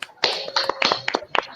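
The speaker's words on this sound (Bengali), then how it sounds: "এই জন্য একটা হাততালি প্রথমে।" A small gathering at a Bengali Eid ul-Adha poetry session claps to welcome a first-time poet: a short, uneven round of a few close hand claps, sparse and irregular, ending quickly.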